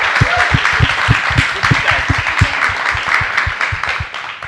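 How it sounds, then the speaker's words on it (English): A live audience applauds steadily for several seconds after the guests of a film panel are introduced, dense clapping close and continuous with a faint murmur underneath. "Let's give everyone a nice round of applause."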